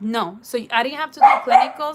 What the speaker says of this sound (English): Don't mind my dog.